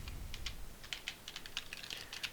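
Soft, rapid keystrokes on a computer keyboard, a quiet, irregular run of close clicks in short bursts, with no talking.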